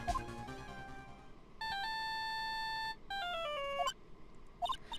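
Synthesized phone ringtone in the Phoenix Wright: Justice For All video game, two sustained electronic melodic rings with a short gap between them, clear and fairly quiet, followed by brief blips of game sound.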